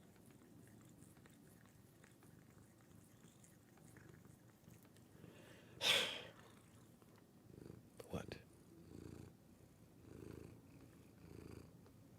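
Soft, continuous cat purring rumbles close by under low background noise, broken by a brief loud rustle and a few quiet, muffled words.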